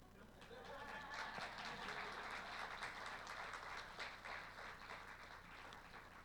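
Audience clapping at a magic show at Atlanta Magic Night, a faint, distant, sustained patter of applause with no talk over it.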